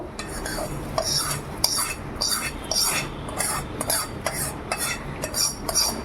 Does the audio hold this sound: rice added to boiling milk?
yes